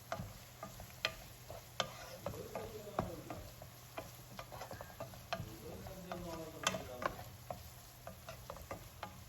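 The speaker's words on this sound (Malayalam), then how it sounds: "ഇനി ഇതിലോട്ട് നമ്മൾ നേരത്തെ ക്രഷ് ചെയ്ത് വെച്ച ഒരു ഇഞ്ചി വെളുത്തുള്ളി കൂട്ട് ചേർത്തിട്ടൊന്ന് നന്നായിട്ടൊന്ന് വഴറ്റിയെടുക്കാം" Crushed ginger-garlic paste sautés in a pan for prawn biryani, a soft sizzle punctuated by frequent sharp spoon clicks and scrapes as it is stirred, close and fairly quiet, without speech.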